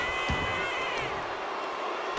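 A wrestling arena crowd at a WCW Slamboree event in WWE 2K25 roars steadily, a broad and continuous wall of cheering with no breaks.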